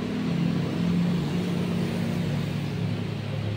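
Steady hum and whir of a 75-watt electric fan motor running at its strongest setting, a constant close drone with no pauses and no talk.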